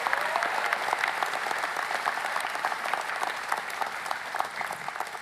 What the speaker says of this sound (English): Please ask a round of applause.